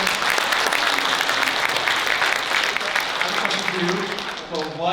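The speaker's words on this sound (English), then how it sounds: "Give these guys a round of applause if you watch it on Thursday." Loud, sustained applause from a convention panel audience at the Chicago Comic & Entertainment Expo, dense clapping with a few cheers filling the hall, tapering slightly at the end as a voice begins to speak.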